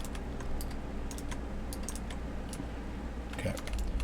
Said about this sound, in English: Let's finish typing this up.